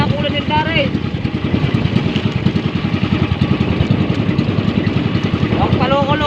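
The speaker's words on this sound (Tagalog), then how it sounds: "Makina namin paloko-loko, paputak-putok." A fishing boat's engine runs loud and close with a rough, uneven sputtering chug, with voices heard briefly over it.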